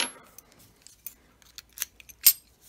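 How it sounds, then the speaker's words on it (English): Key turning in the lock mechanism of a heavy American Lock 700 padlock, a string of small, faint metallic clicks and a couple of brighter snaps, close up in a quiet room. "Let's see if the lock works."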